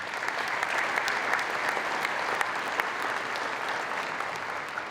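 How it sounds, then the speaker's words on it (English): Steady, dense applause from a large audience at a foundation fundraising breakfast, filling the room evenly at close range and continuing without a break. "So let's give another round of applause for Paul, Leah, and Wendy."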